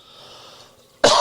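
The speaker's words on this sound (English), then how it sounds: "Can you just stop coughing?" A single sharp, loud cough bursts out close by after a moment of quiet background hiss.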